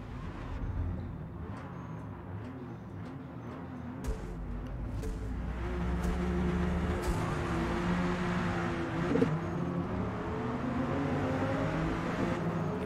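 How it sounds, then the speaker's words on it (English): A Dodge Viper engine races in the Forza Motorsport video game, a steady rising drone of engine and road noise from a car running just ahead, with a brief knock partway through. "I can hear that Viper in front of me"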